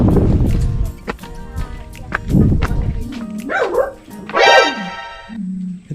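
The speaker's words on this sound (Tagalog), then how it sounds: "Tagabantay na aso." A guard dog barks several times close by, sharp barks and a whining yelp spread over a few seconds, with wind noise and a faint voice in the background.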